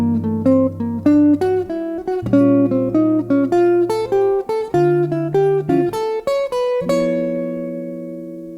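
A jazz eighth-note line from the melodic minor scale over a minor 2-5-1 progression, a quick, even run of melody above sustained low bass and chord tones, ending on a long held chord. No talking.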